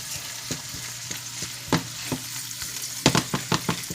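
Leftover pepperoni warms in a frying pan with a soft continuous sizzle, broken by scattered scraping stirs and sharper utensil knocks clustering toward the end.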